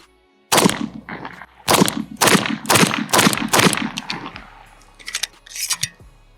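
Eight rapid pistol shots from a Tisas 1911 DS9 crack out in quick bursts close by, sharp loud reports with short gaps, then a few scattered follow-up sounds as the string ends.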